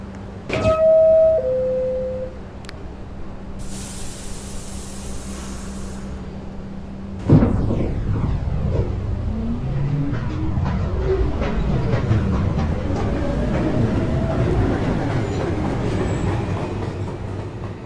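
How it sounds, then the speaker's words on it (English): An automated NYC subway 1 local train departs the station, its doors chiming shut before the motors whine and rise in pitch as the cars pull away, wheels clacking steadily over the rails. "Downtown 1 local train."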